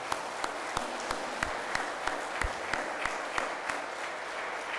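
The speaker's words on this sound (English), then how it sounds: "So Dan, I want to give you a round of applause" At a county Republican candidate forum, an audience applauds steadily, with one nearby pair of hands striking loud, evenly spaced claps over the continuous crowd clapping.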